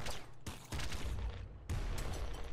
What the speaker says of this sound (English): Triple machine gun.